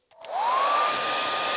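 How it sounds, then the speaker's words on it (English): A hair dryer powered by an EcoFlow Delta 2 portable power station in a campervan clicks on and roars into a loud, steady blow, its motor whine rising in pitch before settling into a constant rush of air. "you do get nice, warm, proper hairdryer air"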